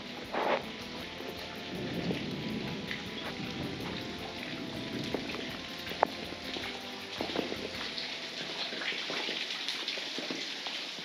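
Steady wash of falling rain and dripping water at a flooded hacienda in Huasca de Ocampo, Hidalgo, moderately loud and continuous, with scattered sharper splashes and drips standing out.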